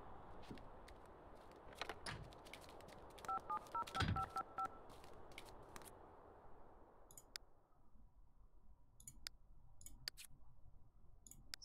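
A telephone in The Sims 2 is dialed, producing a short burst of faint keypad tones amid soft clicks and light game background noise; no one speaks.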